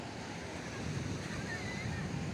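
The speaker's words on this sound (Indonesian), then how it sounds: "Ini pantainya sangat indah sekali." Waves wash onto Marosi beach in Laboya, West Sumba, a soft steady surf roar mixed with wind noise on the microphone, fairly faint and continuous.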